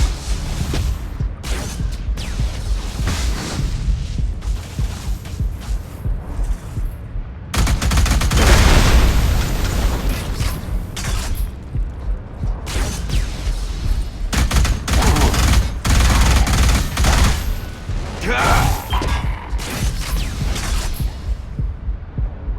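Rapid gunfire and booming explosions from the first-person shooter Alien Rage, dense and continuous with bursts of automatic fire, blasts and game music, with a short announcer voice over the action.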